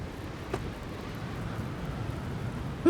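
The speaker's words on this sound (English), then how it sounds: "It's really windy up here." Wind in the climbing video game Jusant rushes steadily high up on a rock face, a constant low roar with a faint thump near the end and no talk.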